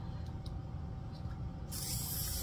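Spray baste adhesive hisses from an aerosol can onto bandana quilt fabric, faint at first, then a steady close spray burst near the end.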